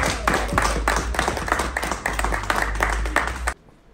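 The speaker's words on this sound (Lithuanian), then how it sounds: "Plojimai." Applause from an audience at a team presentation for the Dakar rally in Lithuanian motorsport, a dense, steady burst of clapping that holds for about three and a half seconds and then stops abruptly.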